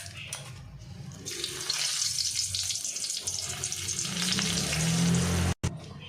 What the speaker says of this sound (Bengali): চলুন ওই তেলের মধ্যে ফোড়ন দিয়ে দেবো, একটা দারচিনি আর দুটো এলাচ,